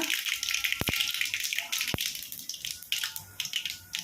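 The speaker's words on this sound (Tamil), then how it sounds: "நம்ம நல்லா பொரியுதுப்பா" Chicken pieces fry in a pan for a chicken uppu curry, giving a steady crackling sizzle broken by a few sharp pops.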